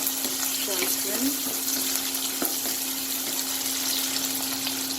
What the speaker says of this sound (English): you can add the remaining onions and saute it for around 5 minutes until the onions turn transparent